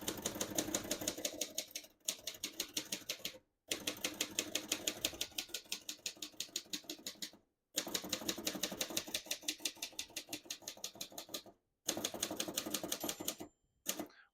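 Typing on a 1940 Royal Quiet De Luxe portable typewriter, rapid clacking keystrokes in steady bursts broken by short pauses, crisp and close with no talking.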